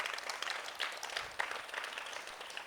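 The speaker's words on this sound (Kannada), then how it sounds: "ಅವರಿಗೆ ನೀವು ಪ್ರೀತಿಪೂರ್ವಕ ಚಪ್ಪಾಳೆಯನ್ನು ನೀಡಿದಿರಿ" Crowd applause at an Independence Day celebration in an ashram, a steady wash of many hands clapping continuously throughout, moderately loud with no gaps.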